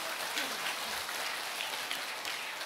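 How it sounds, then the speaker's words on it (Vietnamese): A church congregation applauds together in a steady, dense wash of clapping that fills the whole stretch at even loudness, with no voices standing out above it. "Một tràng pháo tay chúng ta chào mừng những anh chị em đó."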